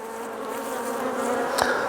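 Honey bees buzz steadily around an open hive during an inspection, among them male drones on the comb, a close, continuous droning hum with one brief sharper knock near the end.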